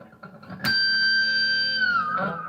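A single electric guitar note struck hard, ringing with a piercing high squealing overtone that sustains and bends slightly before fading.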